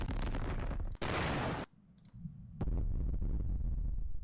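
Explosion sound effects auditioned during editing, a series of loud booming blasts and crackling bursts separated by brief abrupt cuts to near silence, dense and close with no voices.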